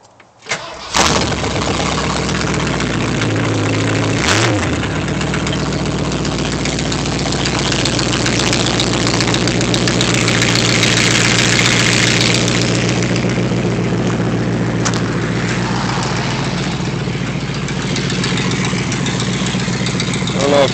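A 1978 Ford Bronco engine with bare exhaust manifolds fires up after a brief pause, then runs at a loud, steady, rough idle for about twenty seconds. Open exhaust rasp and low rumble fill the whole clip with little variation.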